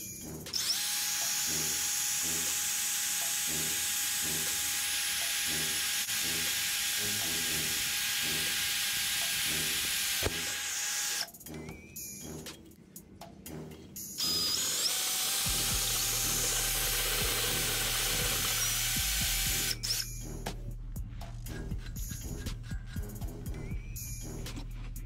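A PUMA PM-280BL cordless brushless drill whirs in long, steady high-pitched runs, twice spinning up and cutting off, with short rattling bursts and a low hum in the second run.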